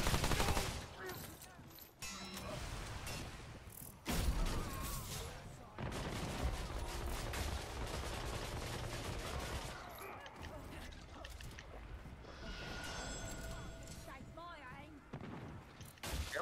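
Enemy gunfire during a boss fight in Remnant 2, bursts of rapid shots and mechanical clatter that come and go in sections, with players talking over the action.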